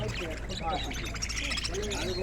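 Busy chirping and tweeting of many small birds at a pigeon market fills the air, with people talking over the constant chatter.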